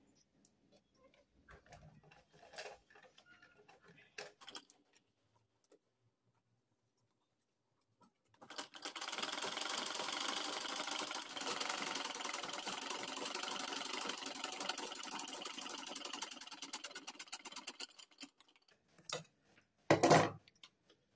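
A small sewing machine stitches cord piping. A few quiet rustles are followed by a steady, close, fast-running burst of stitching lasting about ten seconds, then brief clicks and a sharp knock at the end.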